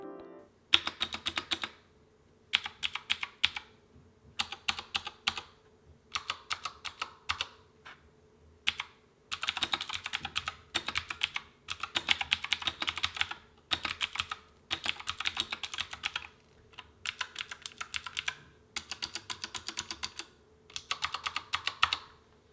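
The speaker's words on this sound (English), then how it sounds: "So the last thing we're gonna do today, guys, is the keyboard typing test." Bursts of fast clicky typing on a Keychron K4 V2 mechanical keyboard with blue switches, close and crisp, in repeated runs separated by short pauses, with no voices.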